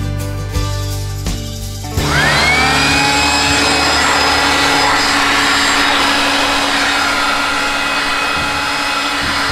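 A leaf blower, used to dry a motorcycle after washing, starts up after a couple of seconds and then roars loud and steady at close range with a constant whine, running without a break.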